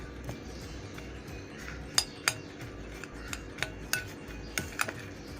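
A spoon mixes chocolate pieces into a homemade chocolate ice cream mixture in a bowl, giving a series of sharp, irregular clinks and taps over a steady low background hum.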